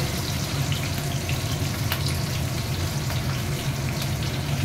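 Four or five chillies crackle in hot oil with chopped garlic in a frying pan on a home stove, a steady, close sizzle with faint pops, no talking.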